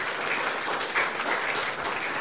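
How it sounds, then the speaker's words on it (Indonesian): A church congregation claps loudly and continuously during a sermon, a dense wash of applause with occasional cheers. "Tepuk tangan yang meriah buat Tuhan."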